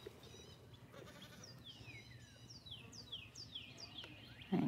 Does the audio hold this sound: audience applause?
no